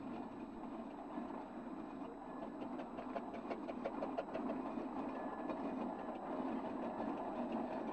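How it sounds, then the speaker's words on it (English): A 1908 Marshall double-crank compound steam engine runs with a steady, faint rhythmic chuffing and mechanical clatter, heard at a distance without voices. "Wardhouse and Bob Stevenson show off their 1908 Marshall double-crank compound engine."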